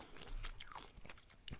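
A piece of fried chicken from a KFC meal gets bitten and chewed up close. The bites are soft and wet, with a few light crunches and smacking chews, and nothing else is heard.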